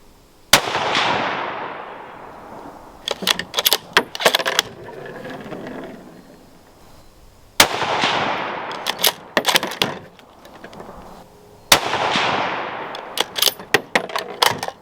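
A Savage 110 Tactical rifle fires Hornady bullets at steel targets outdoors: three loud, sharp reports, each trailing off in a long echoing decay, with bursts of metallic clattering between shots.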